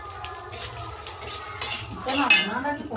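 A spoon stirs fried cashews and raisins in a pan, scraping and clinking against the metal over a soft sizzle of oil, with a few light taps and a faint voice in the background.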